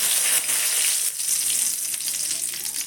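Two bay leaves sizzle in hot oil in a wok, a steady bright frying hiss that fills the clip at close range with no talk.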